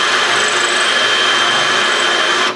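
A cordless drill fitted with a Marcrist MM850 multi-material bit bores into tile with a loud, steady, high-pitched whine that holds unbroken for about two and a half seconds before cutting off.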